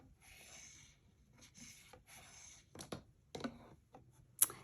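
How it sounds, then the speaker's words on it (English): Bone folder rubbing down cardstock flaps on a one-sheet A2 card box, soft close scraping strokes in a few short passes, then quieter taps and brushing touches, faint and without voices. "I can reach in with my bone folder and just really get those stuck down"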